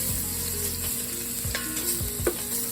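Bacon frying in a pan for fried cabbage with sausage and shrimp, a continuous close sizzle with a few pops and utensil clicks, moderately loud, no talking.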